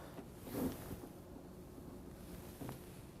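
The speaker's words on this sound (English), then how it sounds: "Our evaporator fan's running." The evaporator fan of a newly set up Frigidaire Bronco top-freezer refrigerator runs as a faint, steady low whir, with a couple of slight swells in the hum.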